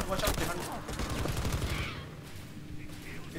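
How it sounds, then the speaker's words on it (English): Machine gun fire in the Battlefield V video game, a dense burst of rapid shots mixed with other gunfire and battle noise, loud at first and thinning toward the end. "There's a guy on the machine gun."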